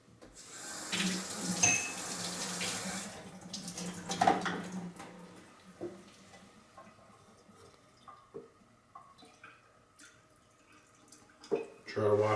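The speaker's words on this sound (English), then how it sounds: "Try to wash down the dextrose that's on the sides." Water poured into a home-brew apple cider fermenter to rinse dextrose off its sides, splashing and running in a steady stream for a few seconds, then tapering to scattered drips and small clinks.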